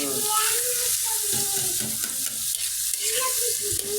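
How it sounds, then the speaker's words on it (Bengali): Noodles and Maggi masala are stirred in a pan, giving a steady hiss and sizzle with soft scraping and rustling as the spoon turns them, close and continuous. "দুইটা ম্যাজিক মশলা দেওয়া শেষ, তার জন্য লাড়া দেওয়া হচ্ছে।"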